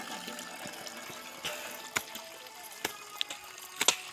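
Dirty water gushes out in a steady, close stream while villagers clean the area, with scattered splashes and knocks over the flow and no talk.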